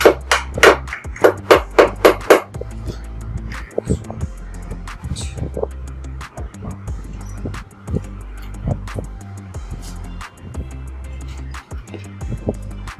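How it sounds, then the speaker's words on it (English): Several sharp hammer blows drive a screw into wood in quick succession at the start, then quieter knocking and handling noises follow against a low background hum. "Insert the screw and hammer it a little bit so that it goes a little bit down"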